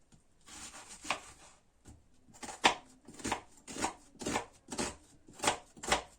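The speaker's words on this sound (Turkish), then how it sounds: "öncelikle soğanımı doğramakla işe başlıyorum" A knife chops an onion steadily on a cutting board, with a few scattered strokes at first, then a brisk, even rhythm of sharp taps.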